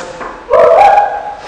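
A dog barks once from nearby, a single loud, drawn-out bark-whine standing out over a quiet background.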